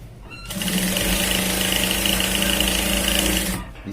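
An electric sewing machine runs a continuous stitching burst on a shirt sleeve, a close, even mechanical whir that starts abruptly, holds steady for about three seconds and then cuts off.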